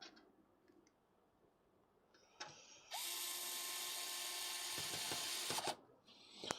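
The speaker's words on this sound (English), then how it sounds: "let's get all these screws in here." A powered screwdriver drives screws into a gaming PC case, with a few short bursts followed by one long steady whirring run of about three seconds, close and fairly quiet, with no talking.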